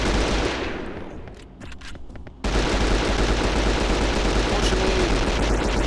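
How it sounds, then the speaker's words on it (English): An Uzi machine gun rattles off loud, rapid bursts of fire in the video game Hunter: the Reckoning, dense continuous shots filling most of the clip after a brief quieter lull. "like this Uzi they call the machine gun"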